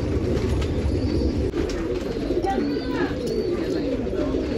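Desi pigeons cooing softly in a loft on Nashik Road, Maharashtra, their low calls half buried under a constant rumble of background noise.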